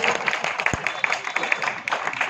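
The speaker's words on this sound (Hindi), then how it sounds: "ताली बजा" Audience applause at a 75th birthday celebration for Pandit Vidyasagar Pandey, a steady wash of many hands clapping throughout, fairly close and continuous with no talk over it.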